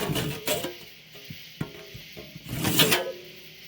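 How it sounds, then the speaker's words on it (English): A handsaw works back and forth through a piece of wood in short, close rasping strokes, with a couple of knocks between strokes. "And I'm going to saw that off right even as I can."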